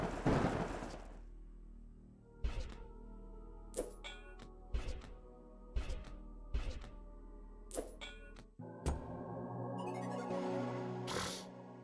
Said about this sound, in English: Your mana is fully charged. Click the orb to unleash a mana storm.